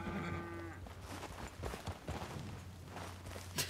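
A cow lows in Red Dead Redemption 2, a low drawn-out moo near the start, followed by soft hoof-like footsteps and shuffling, fairly quiet overall.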